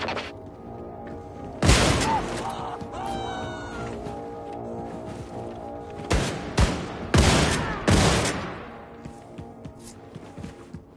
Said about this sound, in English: hop on the nuclear cannon and fire it to maximum distance